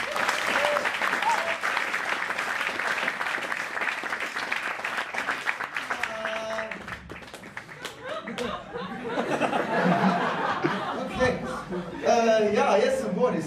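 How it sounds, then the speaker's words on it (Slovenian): Audience at a stand-up comedy show applauds as comedian Boris Dren is introduced, a dense crowd clapping throughout with scattered laughter and chatter, swelling again toward the end. "dajmo en velik aplavz, na oder prihaja Boris Dren!"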